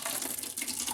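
Hot water at 170 degrees being poured for home brewing, a brief steady gushing stream splashing into a vessel, close and fairly loud, with no speech.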